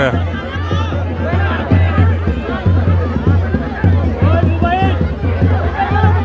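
A large, dense crowd fills an outdoor procession at the Bastar Dussehra festival, with steady close babble and overlapping voices rising and falling throughout, along with nearby people talking.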